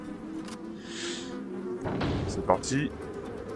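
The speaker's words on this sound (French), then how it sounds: "Il y a des mouches." Flies buzzing in the video game Resident Evil 4, a faint droning hum that rises briefly, with game sounds, a few thumps and a short spoken phrase mixed in.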